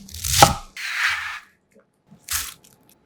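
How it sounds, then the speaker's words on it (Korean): A knife cutting enoki mushrooms on a board, three short crisp chops separated by brief silences, close and fairly loud. "팽이버섯 1개는 밑동을 잘라낸 뒤 물에 한번 씻어 적당한 크기로 뜯어주고 1cm 길이로 썰어주세요."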